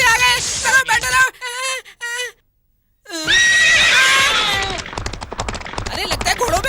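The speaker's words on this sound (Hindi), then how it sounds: "अरे लगता है घोड़ों पे आए हुए हैं। उन्हीं के पैरों की आवाज आ रही है।" Horses neigh repeatedly in a Hindi-dubbed comedy film scene, loud shrill whinnies near and overlapping, broken by a short silence, then more neighing with pounding hoofbeats and noisy commotion.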